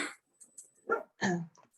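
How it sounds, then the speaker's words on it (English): A dog gives a few short sharp barks and yips, fairly faint and separated by brief silences, during an online webinar call. "dog barked"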